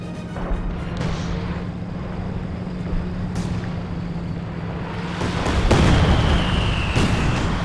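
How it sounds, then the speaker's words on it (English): Katyusha rockets and mortars pound a Company of Heroes 2 battlefield in a steady, rumbling barrage, with distant booms and whooshing streaks layered over continuous low battle noise that swells louder toward the end. "getting pounded by Katusha and mortars"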